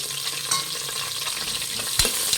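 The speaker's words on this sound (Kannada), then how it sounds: "ಈರುಳ್ಳಿ ಎಲ್ಲ ಚೆನ್ನಾಗಿ ಫ್ರೈ ಆಗಿದೆ" Chopped onions fry and sizzle in a pan for biryani, a continuous hissing crackle with occasional stirring scrapes, close and steady.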